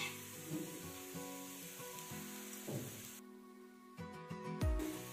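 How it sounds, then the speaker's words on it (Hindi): An onion paratha roasts on a griddle over a low flame, giving a soft, steady sizzle beneath quiet background music. "आप पराठे को धीमी आंच पर ही सेकें।"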